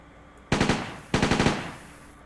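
An M1928A1 Thompson submachine gun fires in World of Guns, two quick bursts of about four or five sharp shots each, close and loud, with a short pause between them.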